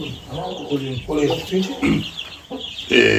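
Roosters cluck at a poultry spot, short choppy calls bunched close together and mixed with a voice talking over them.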